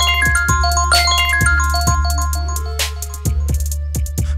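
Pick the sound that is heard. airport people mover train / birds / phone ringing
phone ringing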